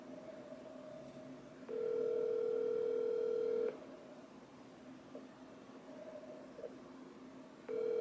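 A phone on speaker rings with two long, steady ringback tones separated by a pause, and a third starts at the end, all over a faint background hiss.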